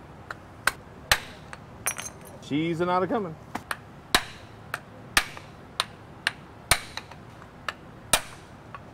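Sharp metallic hammer strikes ring out at a steady rhythm, about a dozen blows knocking out a stuck hub seal on a 10K trailer axle, interrupted briefly by a short spoken phrase.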